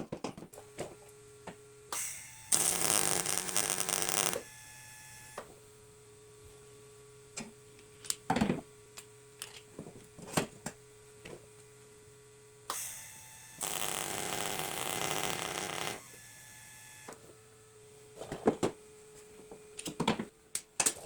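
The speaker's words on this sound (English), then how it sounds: "I'm actually not going to use any welding rod. I'm just going to try and fuse the metal together" Fusion welding of mini bike metal with no filler rod gives two long loud crackling, sputtering bursts, each lasting a couple of seconds, separated by a steady electrical hum and scattered clicks.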